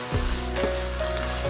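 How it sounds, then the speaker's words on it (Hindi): Cloves and black pepper sizzle steadily in a hot pan on high heat while palak chicken is being made, a continuous close frying hiss with a faint background hum. "इस पोजीशन पे हम अब इसमें डालेंगे अपने लौंग और काली मिर्च। हम इस पोजीशन पे डाल के अच्छे से इसको भूनेंगे तेज़ आंच पे।"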